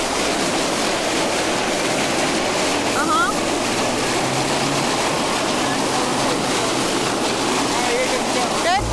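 Water rushes loud and steady down a waterslide at a Six Flags Hurricane Harbor water park. The roaring, splashing flow holds unbroken throughout, with faint voices in the background.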